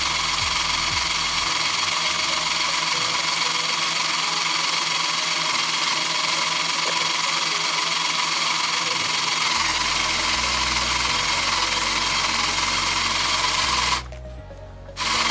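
A motorized Lego escalator built for multiple floors runs on a test, giving a steady, continuous mechanical whir and buzz of small gears and motor, close and fairly loud, with a brief drop near the end.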